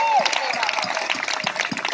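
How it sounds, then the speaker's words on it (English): A brief burst of audience applause at an outdoor show, dense clapping from a crowd filling the short moment at a moderate level. "give these guys a great big round of applause for wearing their safety gear today"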